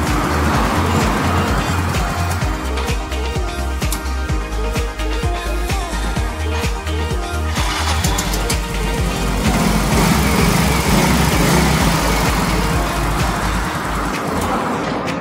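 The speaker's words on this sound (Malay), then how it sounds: "motor dah hidup." A Yamaha Ego Avantiz scooter engine, just repaired after a fuel pump fault, idles loudly and steadily up close, a continuous rough motor drone that holds throughout.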